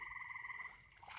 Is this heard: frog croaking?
yes